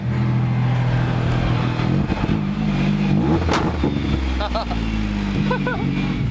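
A Nissan sports car engine with a short exhaust and mufflers idles loudly and revs up with a throaty, raspy exhaust note, steady and close, with some faint clatter in the background.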